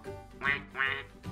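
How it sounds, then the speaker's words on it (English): A cartoonish duck quacks three times in a steady rhythm, close and clear, with no talking over it. "duck."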